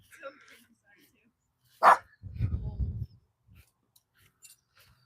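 A small dog gives one sharp, close bark, followed by a short stretch of low voice or rumbling, then quiet with faint scattered sounds.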